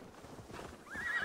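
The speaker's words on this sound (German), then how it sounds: "Mein Pferd." A horse neighs in a rising, quavering whinny in Assassin's Creed Valhalla, moderately loud, over a soft background of clip-clopping hooves.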